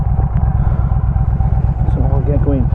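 A Yamaha Midnight Star 1300 motorcycle engine throbs with a loud, steady low pulsing rumble while riding, and a voice speaks briefly over it near the end.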